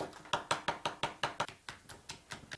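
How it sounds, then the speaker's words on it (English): Garlic chopped with a knife on a board, about a dozen quick, crisp knocks in a fast, fairly even rhythm, close by and alone. "If you want to add your garlic, just chop those boys up."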